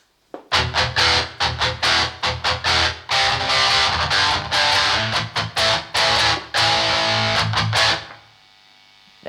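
Heavily distorted electric guitar run through a Fortin Kali amp-sim module with no boost and no noise gate, playing loud, tight palm-muted chugs and riffs with short gaps, then stopping into a hiss of noise.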